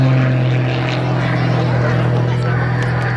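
The highly modified engine of a Muscle Pitts biplane drones steadily during an aerobatic display at an RAF airshow, a loud, constant propeller hum with a strong low tone, probably under commentary.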